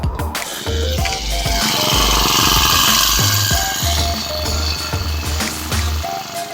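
Honda GX35 four-stroke brush cutter engine in a repair shop after cylinder sleeve and valve seat work, started and running steadily with a loud, rough, close buzzing drone that stays busy throughout.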